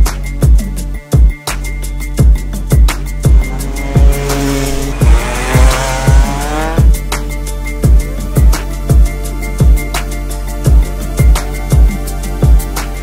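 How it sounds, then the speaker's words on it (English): CRG karts racing at speed, a loud engine drone cut by a regular thumping beat, with a rising tire squeal in the middle, close and continuous with no talk. "These CRG cars do like 110 kilometers an hour on the straight."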